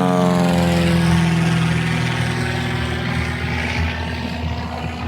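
A light propeller aircraft lands on the beach runway of Fraser Island, a loud, close droning engine that slowly falls in pitch as it passes, with no talk.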